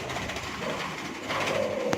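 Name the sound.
moka zebra dove (perkutut) cooing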